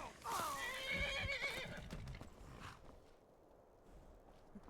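A horse in the Skyrim video game neighs loudly in a long whinny, with a few soft hoof clip-clops and footfalls trailing after it. No voices are heard.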